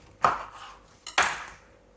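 A knife chops through a lemon on a cutting board. Two sharp, close thuds sound about a second apart, each with a short clattering tail, in an otherwise quiet kitchen.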